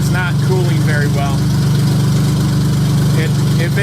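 Honda J35 V6 idling in a Subaru Baja with a weak radiator: a steady, loud low drone, while someone talks over it.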